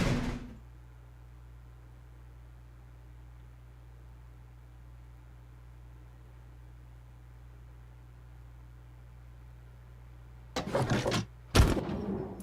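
A door in Zero Escape: Virtue's Last Reward opens after a long low mechanical hum, with a brief burst of sliding, whooshing noise followed by a sharp second clunk near the end.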